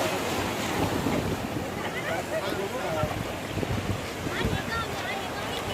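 Sea waves roll onto the shore at Digha beach, a steady broadband wash of surf blended with constant wind buffeting the microphone, with no pauses throughout.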